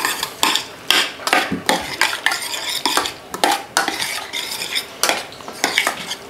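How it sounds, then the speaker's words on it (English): Utensil scraping and clinking in a pan as cheese and onion pie filling is stirred, a close, repeated rhythmic scrape-and-clatter with no talk. "You got a good stirring about."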